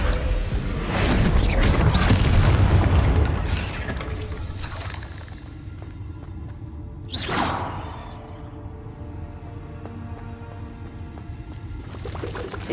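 Descendo spell effect in Hogwarts Legacy: a heavy rushing, crashing burst at first, then a sharp whooshing swipe midway, and lighter magical swishes after, all fairly close and without speech.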